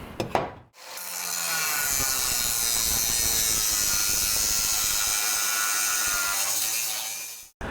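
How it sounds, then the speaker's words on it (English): A drill with a 3/8 bit boring out spot welds on a Chevy or GMC truck front fender, a brief start then one continuous, loud, steady grinding whine lasting several seconds before stopping abruptly. "Using a 3/8 drill bit to drill these spot welds out"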